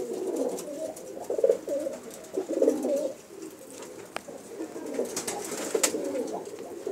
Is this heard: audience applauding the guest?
no